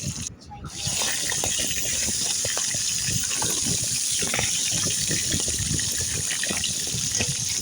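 Fish bones fry in a pan with a loud, continuous, close sizzle that starts after a brief quieter moment and holds steady throughout.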